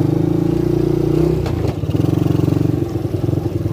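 A Lida 250cc ATV engine runs steadily while riding out into a field, its loud, close drone pulsing with rhythmic throttle changes and a brief clatter midway, with no talk.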